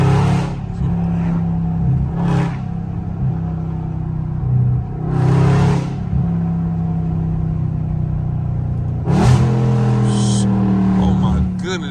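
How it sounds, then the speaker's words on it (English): A BMW 430i downshifts into second gear and accelerates through traffic, its engine rumbling and revving in repeated surges with sharp bursts, while someone talks over it. "That second gear downshift in the scat is crazy."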